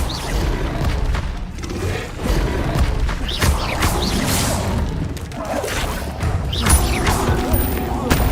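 Hogwarts Legacy Levioso levitation spell effects: repeated whooshing swishes and heavy booming crashes, loud and close, recurring several times in irregular bursts.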